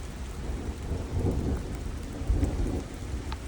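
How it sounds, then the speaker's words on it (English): Rain falls steadily on a leaking roof while low thunder rumbles swell and fade in the background, with no voices. "And then it rained."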